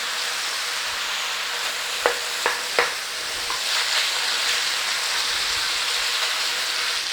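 Beef coated in cornstarch sears and chars in a hot pan for spicy garlic beef noodles, a loud continuous close sizzle with a few spoon clacks early on and no voices.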